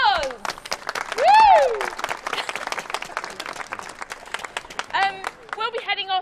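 An audience applauds and cheers at a public event, a burst of clapping with a loud whoop rising above it, while someone speaks over the crowd before and after.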